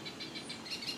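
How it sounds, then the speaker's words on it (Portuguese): Small birds chirp outdoors in a quick repeating series of high, bright calls, faint and distant over light background hiss. "Os pássaros continuam cantando."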